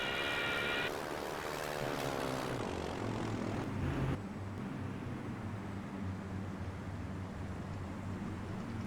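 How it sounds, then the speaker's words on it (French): Propeller aircraft drone loudly overhead in the naval World War II submarine game Silent Hunter 3, a steady engine roar that swells and then shifts in pitch as the planes pass. "on a vu des avions, alors... c'était des avions allemands ou des avions britanniques"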